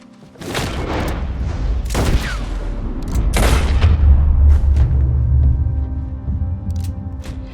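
Gunshots in the video game Red Dead Redemption 2, several sharp loud cracks in quick succession followed by a sustained low rumbling boom.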